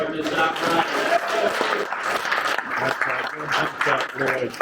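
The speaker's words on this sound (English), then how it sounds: "Give each one of you a round of applause." A room of traditional bowhunting club members at an Illinois archery gathering gives a round of applause, steady dense clapping under a voice talking over it throughout.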